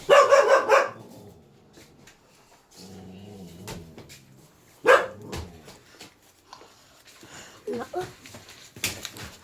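A dog barks close by in three separate loud bursts spread across several seconds, with quiet gaps, faint voices and some household knocks in between.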